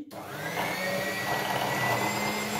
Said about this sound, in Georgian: ჯერ ვთქვებ კრემს, აი ამ პატარა ჭურჭელში.